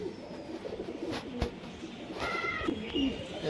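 A Mangalgiri female pigeon coos softly at close range in a few short, low throaty bursts, with faint rustling and light background noise and no talk.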